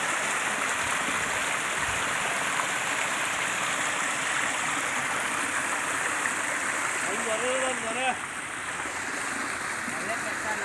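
Chemical effluent water from factories flows into Chikka Tumakuru lake in the Arkavathi river bed, making a steady, loud rushing stream sound throughout, with a voice briefly heard near the end.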